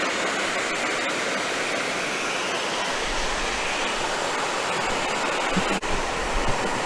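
A river full of water rushes over big rocks at dawn, making a loud, continuous roar with no pauses or voices.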